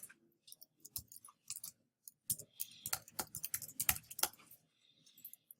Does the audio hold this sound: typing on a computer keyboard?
yes